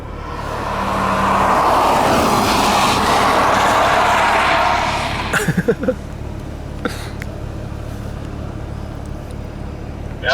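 A car approaches at 40 to 50 mph with a loud steady road and engine roar that fades, followed by a few sharp thumps and rattles as it brakes, close by.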